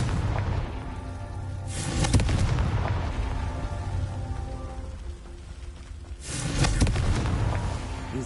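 Confringo blasting spell explosions in Hogwarts Legacy, two booming blasts a few seconds apart, each a loud burst that rumbles and fades over a low background.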